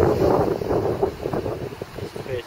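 Wind blowing at night in South Wales, buffeting the microphone as a rough, moderately loud rush that swells and eases over a few seconds.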